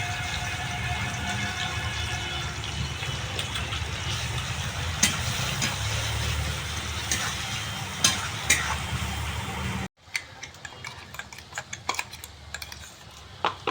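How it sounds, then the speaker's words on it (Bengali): Finely chopped onion frying in hot oil with whole garam masala, bay leaf and a dried chilli, a steady close sizzle broken by sharp clicks of stirring, cutting out briefly and resuming thinner and tickier. "এদিকে দেখো পেঁয়াজটা আমার ভাজা ভাজা হয়ে গেছে।"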